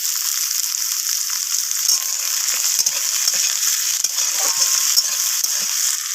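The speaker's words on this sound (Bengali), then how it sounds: "তো আলুগুলোকে একটু পেঁয়াজের সাথে ভেজে নেব নাড়াচাড়া করে।" Cut potatoes fry with onions for a mixed-vegetable prawn chorchori, making a loud, continuous hissing sizzle broken by light scraping and clinking as they are stirred in the pan. No one speaks.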